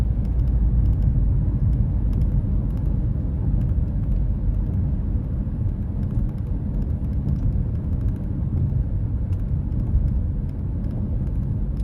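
A car drives along a road in Katy, Texas, with a steady low rumble of engine and tire noise throughout, close and even, with no talking.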